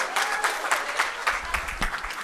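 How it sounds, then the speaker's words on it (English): Seminar audience applauds, a dense burst of clapping with loud peaks that carries on for a couple of seconds, close to the microphone. "A round of applause."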